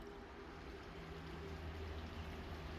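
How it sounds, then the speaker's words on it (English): A cold, fast-moving creek beside a campground in Burnt Cabins, Pennsylvania, gives a steady, low rushing flow of water. The sound stays even and continuous throughout, faint and without voices. "we are right slap dab next to a nice moving cold water creek here"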